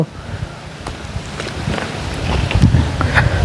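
Cool wind gusting across an outdoor microphone, a rough broadband rush that builds and grows louder toward the end, with scattered rustles and knocks beneath.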